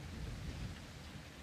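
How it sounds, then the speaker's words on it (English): Steady rain hisses with a low rumble of thunder underneath, heard faintly and evenly for a brief moment with no voices. "It's starting to rain now"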